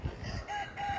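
A rooster crows faintly in a small breeding pen holding white rock hens, a white rock cockerel and an Indian game hen, the brief call rising out of low farmyard murmur.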